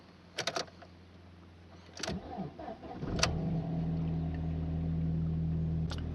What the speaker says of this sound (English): Now start the good car up.